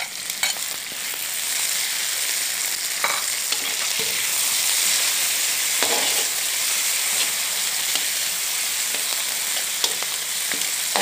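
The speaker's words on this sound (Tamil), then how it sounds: "நல்லா வதக்கிக்கலாம்." Tomatoes sautéing in a pan, with a constant close hiss of frying and scattered scrapes and taps of a stirring spoon, no voices present.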